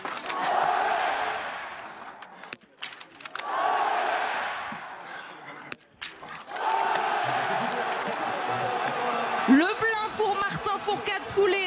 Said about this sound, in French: applaudissements de cette tribune du Grand Bornand